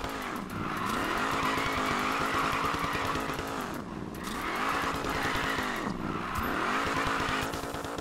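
Mercury Cougar engine in the Need for Speed Payback racing game, built for drifting, droning steadily in fifth gear with revs sagging and recovering in repeated dips, mixed with tire squeal, loud and continuous throughout.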